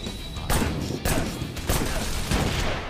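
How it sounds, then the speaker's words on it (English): Grenade blasts in the VR shooter Wanted Dead: four loud, close booming explosions at roughly half-second to one-second intervals, each a broadband thump with a rumbling tail, no talk over them. "Oh, the grenades are full on here."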